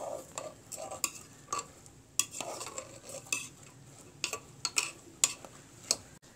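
A spoon stirs chow chow kootu with salt and asafoetida in a pot, producing a series of light, irregular metallic scrapes and clinks, close and fairly quiet, with no talking.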